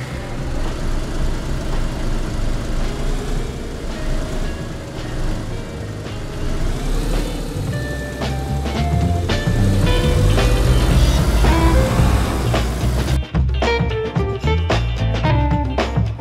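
A car engine runs steadily in the survival game DayZ, a loud continuous mid-pitched drone that rises slightly as the vehicle drives, with clatter and other game sounds layered over it.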